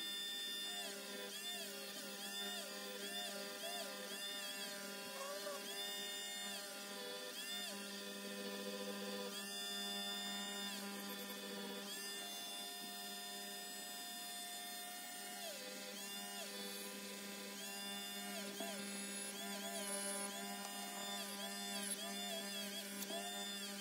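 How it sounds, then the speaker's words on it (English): Rotary tool with a wire wheel working on a diecast metal Matchbox Lesney Pickfords removal van, a continuous high-pitched whine with wavering pitch as the load changes, close and steady throughout. "So I decided to give it a breather and go back to the wire wheel for a minute."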